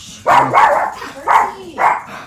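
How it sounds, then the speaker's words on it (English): A dog barks four times in quick succession, loud and close, with short gaps between the barks and no talk over them. "Every time she goes to the door, ain't nobody there. She just be barking."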